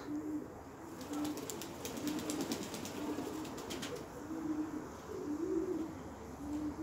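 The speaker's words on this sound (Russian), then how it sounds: "Сейчас голубь вылетит." Pigeon cooing outdoors, a soft low coo repeated about every second in a steady rhythm, fairly faint, with a brief burst of high twittering and light background noise.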